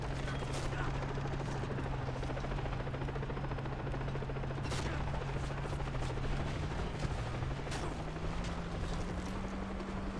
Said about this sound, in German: Oh fuck, ein Heli.